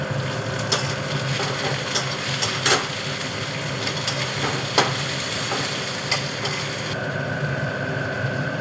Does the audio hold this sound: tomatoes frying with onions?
yes